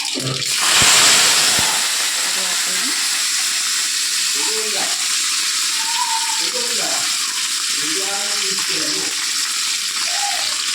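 Curry leaves fry in hot oil with a loud, steady sizzling hiss that flares up at the start, then holds evenly, while someone speaks intermittently over it in a home kitchen.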